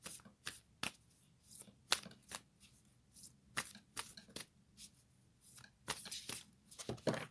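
Moonology oracle cards are shuffled by hand in a quick series of crisp, close riffling and slapping bursts, each one short, with brief pauses between them.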